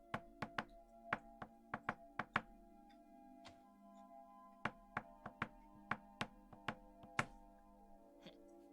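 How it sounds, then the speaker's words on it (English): Knocking on a door heard from inside, sharp hollow raps in quick irregular clusters with pauses between, faint and close with a low background hum. "You guys inside hear some knocking."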